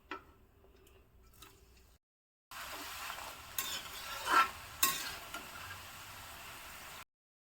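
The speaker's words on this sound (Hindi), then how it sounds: "इसी प्रकार सभी को हम तल लेते हैं।" Namakpare (mathri) dough pieces deep-fry in hot oil, a steady, fairly quiet bubbling hiss with a few louder crackles, following a brief faint stretch and a moment of silence.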